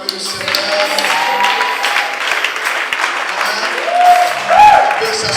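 A church congregation breaks into sustained applause for the Lord during a worship service, a dense, steady wash of many hands clapping throughout, with a few voices and cheers rising briefly near the end.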